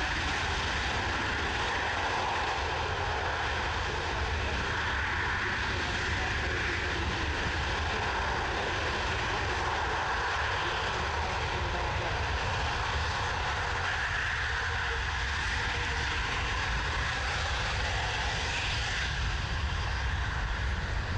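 A C-17 Globemaster III military transport at an air show, heard as a continuous broadband roar of jet engines after landing, steady and moderately distant across the whole stretch with no voices.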